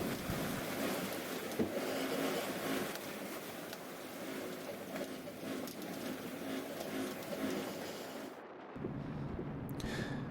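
Continuous rushing roar of Atlantic Ocean waves and whitecapped surf heard from a sailboat, with wind buffeting the microphone, steady and loud, briefly cutting out near the end.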